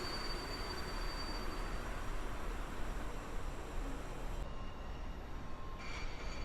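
Railway carriages roll steadily past on the platform tracks at Warszawa Zachodnia station, a broad continuous rumble of wheels and cars close by with a faint wheel squeal, no voices.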